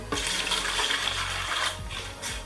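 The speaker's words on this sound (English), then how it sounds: "Okay, so I measured the water. Put that in." Measured water pours steadily into a bucket to mix grout, a continuous splashing gurgle lasting about two seconds with a slight dip near the end.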